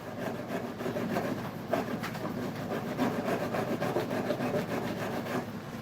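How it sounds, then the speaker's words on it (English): A heavy-duty rasp files wood to carve a shoe heel, giving continuous close scraping in rapid back-and-forth strokes with no pauses. "we're using this rasp. It's a pretty heavy duty rasp"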